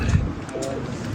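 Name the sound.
Kasuri pigeon cooing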